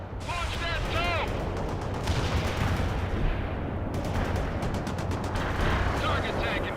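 Battlefield gunfire and a missile launch from the World in Conflict video game, with Cold War units fighting in Seattle and a Bradley firing a TOW missile. Steady, loud combat noise with bursts of shots and booming blasts run throughout, with voices heard beneath.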